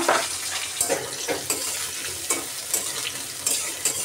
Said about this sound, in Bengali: আমি পেঁয়াজটা আগে ভেজে নেব